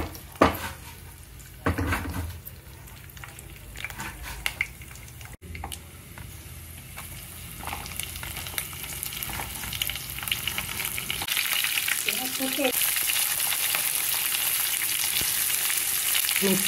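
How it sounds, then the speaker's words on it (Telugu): Chillies and onions fry in hot oil in a pan with seasoning spices, a steady close sizzle that grows louder and denser through the second half, with a few spoon clinks and stirring knocks early on. "మిర్చి ఉల్లిపాయలు వేయించేసుకున్నామండి."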